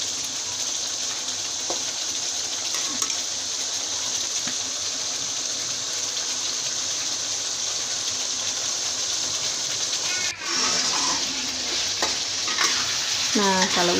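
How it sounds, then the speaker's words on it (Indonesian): Spiced food simmering in a pan, with a steady bubbling sizzle throughout and occasional scrapes and clatters of stirring, the sizzle louder near the end. "Kita aduk lagi hingga bumbunya semua meresap."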